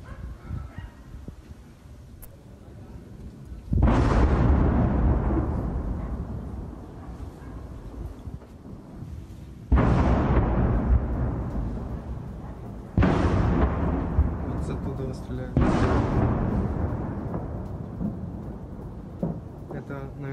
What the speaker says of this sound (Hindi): यूक्रेन के स्टाखनोव शहर में गोलाबारी हो रही है